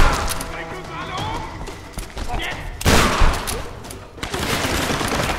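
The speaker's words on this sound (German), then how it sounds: "Dann geht's jetzt mit der Schrot los." Shotgun blasts in the 2013 Tomb Raider game ring out as loud booming reports, one heavy burst near the middle and another toward the end, over a busy game background with voices talking.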